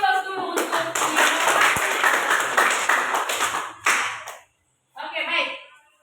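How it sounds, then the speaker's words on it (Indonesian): Audience applause at a school presentation about sago, a burst of clapping from a group for several seconds, stopping briefly before a short second round of claps. "kita beri aplaus dulu untuk"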